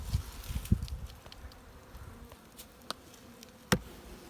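Honeybees of a pure Caucasian colony in Macahel, Artvin, buzz steadily in an opened hive during a colony check, a close continuous hum broken by a few soft knocks and rustles, with no talking.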